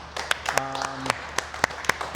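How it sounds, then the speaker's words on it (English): Car dealership staff clap for the team at Maple Ridge Hyundai, a scattering of separate, sharp claps ringing out close by, with a voice speaking partway through. "So I'll give you guys a clap."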